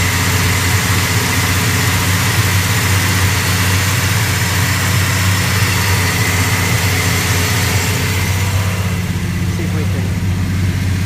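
A cold 1970 Dodge Coronet engine idles steadily at a slightly high speed, a loud, continuous low rumble with a smooth, even drone throughout.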